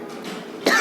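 A single short cough from a man teaching a class, breaking in near the end of a quiet stretch of room tone.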